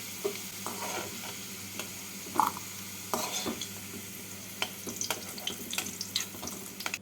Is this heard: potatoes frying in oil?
yes